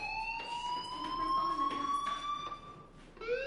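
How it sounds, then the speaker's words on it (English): A fire alarm sounds in a video game: a steady, shrill electronic tone with a slight upward drift, ringing continuously and fairly loud, with no voices over it. "do you hear that fire alarm? That means you should be outside."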